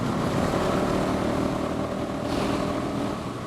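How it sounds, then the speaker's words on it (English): A 2005 Buell Blast with its big single-cylinder Harley-Davidson engine drones steadily while being ridden, largely buried under loud, constant wind rush across the microphone. "So it's a big single-cylinder Harley-Davidson engine, which is just really rad."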